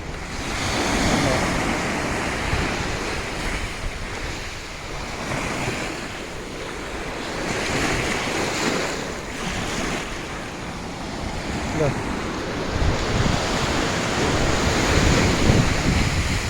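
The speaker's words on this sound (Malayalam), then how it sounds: "ഇന്ന് കടൽ വളരെ ശാന്തമായിട്ട് നിൽക്കുകയാണ്" Calm sea waves wash onto the shore in a continuous rolling surf, loud and close, with wind buffeting the microphone and no speech.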